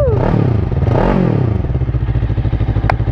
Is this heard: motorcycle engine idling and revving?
yes